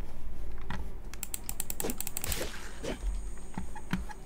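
Computer keyboard keys tapped during a zombie video game session, a run of close, crisp clicks in irregular clusters over a steady game background hum, with no talking.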